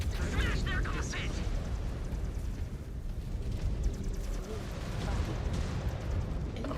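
A missile explodes in a video game, a rumbling burst of booms and crackling blasts that fills the whole stretch, loud and continuous.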